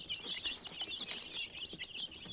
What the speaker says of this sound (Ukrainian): Курчатка наші вечеряють.